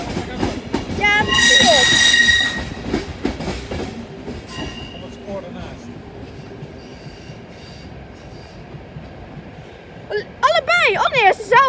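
A DDZ double-decker train at Rotterdam Centraal rattles over a railway switch with rhythmic clacking and a sharp burst of screeching wheels, loud and close, followed by rolling rumble and later squealing, while people talk nearby.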